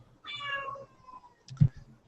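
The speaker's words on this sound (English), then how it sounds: "Sorry, that's my cat." Pet cat meowing close by, one drawn-out meow followed by a shorter, louder chirping call.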